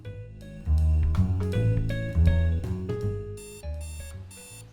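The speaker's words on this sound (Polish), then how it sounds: "Poza symulatorem Trabanta, Jalopy jest też symulatorem budzika. Irytującego budzika." An insistent alarm clock rings in the video game Jalopy, a loud, repeated electronic chiming pattern in a steady rhythm, close and alone, ending in a few higher bursts.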